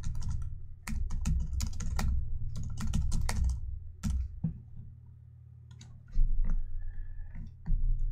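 A computer keyboard clicks as a note is typed into a calendar, bursts of quick close keystrokes with short pauses between, a lull near the middle, then more taps.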